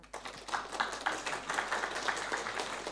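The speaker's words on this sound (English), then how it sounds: "give applause to Bu Laura" A seminar audience breaks into applause, scattered claps quickly building into a steady patter that continues for a few seconds.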